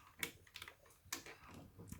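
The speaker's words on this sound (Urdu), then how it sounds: "یہ کمپلیٹ ٹائپ رائٹر ٹائپ اس کی وائس ہے. اور ان کے یہ دیکھیں بلو سوئچز ہیں." Clicky typing on a Milang MK-808 mechanical keyboard with blue switches gives a few sharp, close keystrokes in an uneven rhythm, quiet and alone.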